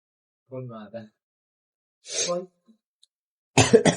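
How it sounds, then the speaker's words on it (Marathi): One person coughs in a harsh, clustered burst near the end, after brief bits of voice in an otherwise quiet room. "मला बरं वाटत नाही ना, नुसता खोकला येतो, त्रास होतो"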